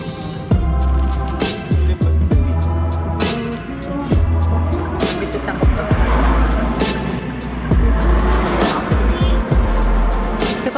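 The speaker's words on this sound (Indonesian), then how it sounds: "Nah, ini bisnya." A campus bus at Universiti Utara Malaysia pulling in, its low engine drone steady throughout with brakes and tyre noise, clattering knocks and busy outdoor bustle around it.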